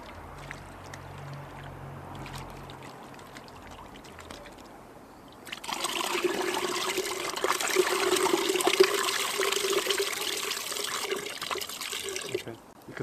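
Water swirls and drains out of a bottle. After a few seconds of near quiet, a strong, continuous rushing and gurgling flow starts suddenly and runs steadily for about seven seconds before cutting off.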